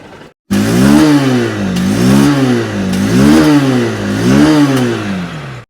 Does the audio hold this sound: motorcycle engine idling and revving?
yes